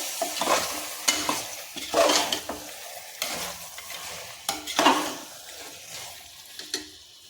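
Chicken biryani masala is stirred in a pot with lemon juice squeezed in, making repeated scraping, sloshing strokes over a soft sizzle. The strokes come about once a second or two and sound close and moderately loud.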